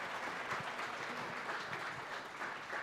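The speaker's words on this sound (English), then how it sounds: "give this guy a round of applause" A live audience at a football team's clubhouse show applauds steadily, a dense, even patter of clapping heard from a distance throughout.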